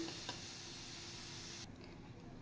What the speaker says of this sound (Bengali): রসুনগুলো ফ্রাই হয়ে গেছে, এবার এগুলো আমি তুলে নেব